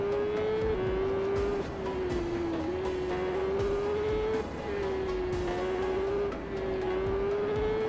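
A superbike engine from the TT Isle of Man racing game drones at a steady high pitch with a warbling, wavering tone, dipping and recovering as the bike shifts, loud and continuous with no voices.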